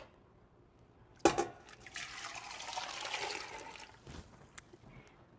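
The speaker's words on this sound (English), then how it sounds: "I'm going to cover them with our 6 cups of cold water." Six cups of cold water are poured over bony chicken pieces in a pot for homemade broth, a faint splash followed by a steady, soft rush of filling water and a few trickles.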